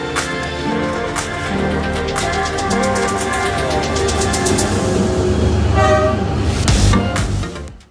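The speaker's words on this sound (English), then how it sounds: "When the train arrives, it is a wild scramble to get out of the way." Train pulling into a crowded Hanoi street, loud and close, its horn tooting in a couple of short blasts over a dense rumble and street bustle.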